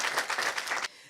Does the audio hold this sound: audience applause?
yes